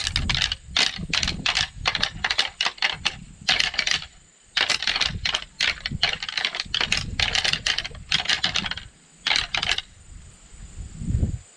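Hard plastic Black Rack pieces are slammed together with force, giving rapid bursts of sharp, clacking impacts in quick clusters separated by brief pauses, close and crisp throughout.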